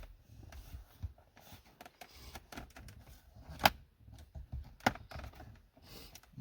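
A plastic trim tool pries the side trim panels out of an Acura TL interior, giving scattered light plastic clicks and scrapes with two sharper pops, close and fairly quiet, with no talking.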